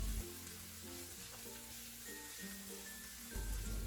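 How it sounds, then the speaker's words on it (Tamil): Small onions frying in a pan for Pallipalayam chicken give a steady, soft sizzle throughout, close and fairly quiet, with a faint low hum underneath. "வெங்காயம் வந்து நல்லா வதங்கி சுருண்டு வரணும்"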